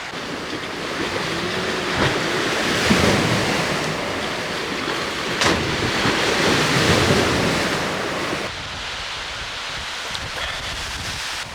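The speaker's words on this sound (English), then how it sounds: "So it's so insanely windy that the last night's sleeps have been like brutal." Strong wind buffeting a van during van life travel in Europe, a loud continuous roar and rush with gusty swells, steady throughout with no talking.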